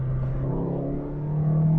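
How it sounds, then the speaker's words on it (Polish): A Toyota Yaris with a 1.3 engine pulls away under acceleration, its steady engine drone heard from inside the car and rising slightly in pitch over the short stretch, with no talk. "ten samochód naprawdę bardzo fajnie brzmi, kiedy przyspiesza do tych wyższych obrotów"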